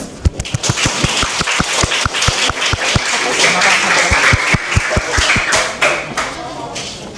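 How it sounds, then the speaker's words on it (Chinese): A room full of audience members clapping at a legal services outreach class, dense steady applause with sharp individual claps standing out, continuing for several seconds without speech. "鼓掌。"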